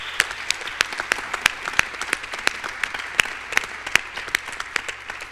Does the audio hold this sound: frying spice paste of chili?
no